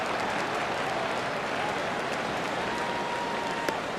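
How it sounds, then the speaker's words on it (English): Broadband stadium crowd noise from an MLB The Show 15 All-Star Game, a steady roar of applause and murmuring oohs as a fly ball is lifted to left field, continuous and moderately loud throughout. "This crowd oohs and ahs every time this guy hits a fly ball."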